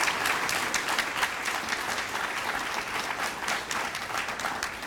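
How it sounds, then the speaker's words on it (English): Sustained applause from an audience honoring scholarship recipients at an awards ceremony, a dense, steady wash of clapping that fills the room without pause. "Please give them another round of applause."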